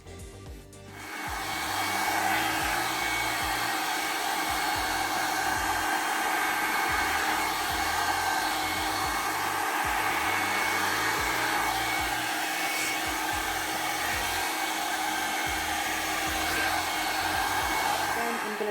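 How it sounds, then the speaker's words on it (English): A Revlon blow dry brush drying damp hair starts up and then runs as a steady, loud airy whir with a constant motor drone, continuing without a break and with no talking. "take the hair that's damp and I'm going to start drying it"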